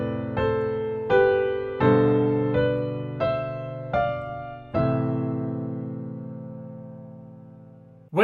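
Piano improvisation with right-hand third harmonies moving over left-hand chords: six struck chords at an unhurried pace, the last one held and ringing out for several seconds, played alone and close.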